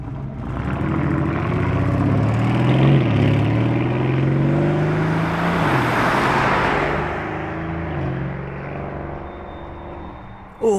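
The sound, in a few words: Lamborghini Urus SE driving past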